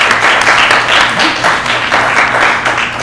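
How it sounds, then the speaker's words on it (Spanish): Audience applause after a talk on natural photonic engineering, steady dense clapping from a room full of people, loud and continuous for a few seconds. "aplauso. Muchas gracias."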